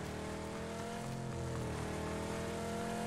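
A car engine drones in PUBG, a steady mid-level hum with a slight rise in pitch as the vehicle drives on, with no voices over it.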